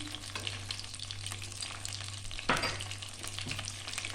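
Bhindi gosht being lightly fried in a pan, a continuous close sizzle with a brief louder crackle and stir midway, no talking.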